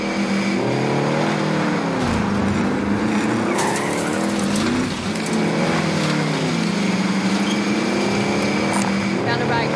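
Game car in Warzone driving steadily, its engine droning and rising and falling in pitch with occasional tire skids, loud and close, with brief game voice lines over it.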